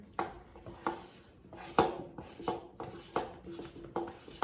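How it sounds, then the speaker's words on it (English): Spoon or spatula scraping and knocking around a bowl while peanut butter and sugar are mixed, a steady series of close, moderately loud clinks and scrapes repeating roughly every half second. "right now we're just mixing our peanut butter"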